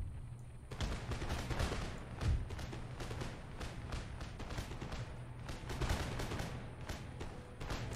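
Musket volleys ripple across a battlefield in the video game Empire Total War. Clusters of distant crackling shots overlap in a steady fusillade over a low rumble, with no voices.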